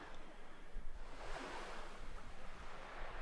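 Ocean waves wash in a steady roar of surf at sea, with a broad rushing swell and wind buffeting the microphone, and no voices.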